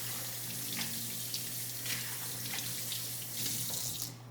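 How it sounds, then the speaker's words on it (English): Tap water runs steadily into a kitchen sink as a mixing bowl is rinsed, a continuous close splashing hiss with small shifts as the bowl moves under the stream, no talking. "With a mixing bowl, I'm washing all sides of the dish with the dishcloth, rinsing it off."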